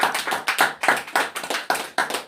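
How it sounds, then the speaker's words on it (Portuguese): A church congregation claps in a steady, rhythmic beat, about two claps per second, close and fairly loud with no talking over it. "Dê uma linda salva de palmas ao nome do Senhor Jesus Cristo."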